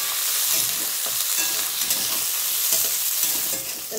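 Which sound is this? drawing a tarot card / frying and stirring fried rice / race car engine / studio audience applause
frying and stirring fried rice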